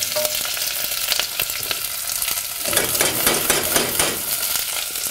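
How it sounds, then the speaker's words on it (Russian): Soup ingredients for a quick cheese soup sizzle and crackle in a single pot, a steady close frying hiss with a louder burst of spattering midway as things are stirred. "О, шкварчит."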